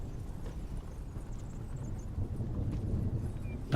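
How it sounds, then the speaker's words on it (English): Horse hooves clip-clop as a tabletop game sound effect, a soft rhythmic clatter of steady hoofbeats under a low background hum, growing slightly louder toward the end, with no talking. "The horse sounds on the foundry sound like"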